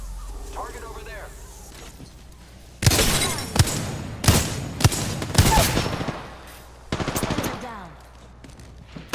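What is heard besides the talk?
gunfire in Apex Legends video game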